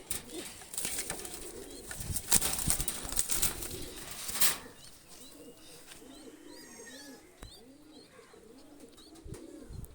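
A female Pakistani high-flyer pigeon coos in repeated soft, low rounded notes close by, starting over a burst of louder rustling and flapping noise, with small chirps from other birds in the background.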